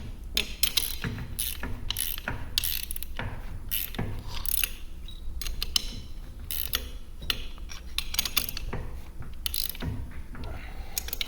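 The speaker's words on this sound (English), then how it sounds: "And then tighten up these slip clutch bolts." Slip clutch bolts on a mower behind a John Deere 6120E tractor being tightened with a ratchet wrench, giving quick close clicking bursts in an irregular rhythm, with no talking.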